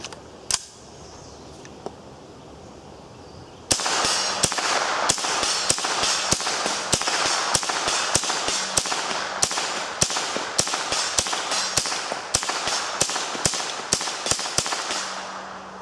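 An AR-15 fitted with a Colt .22 conversion fires a long string of rapid, sharp cracks outdoors, loud and close after a couple of isolated clicks, with no talk.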